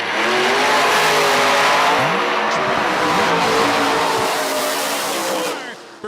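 A drag racing car at a radial tire event revs hard and loud, its engine note climbing in a steady sweeping rise for several seconds before dropping off, with crowd and track noise underneath.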